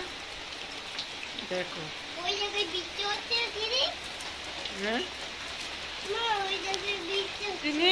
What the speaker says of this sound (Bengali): এখন বৃষ্টি শুরু হয়ে গেছে। রাতে অল্প অল্প পড়ছিল, এখন দেখছি বেশি বেশি।